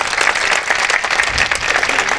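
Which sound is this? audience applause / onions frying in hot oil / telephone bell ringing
audience applause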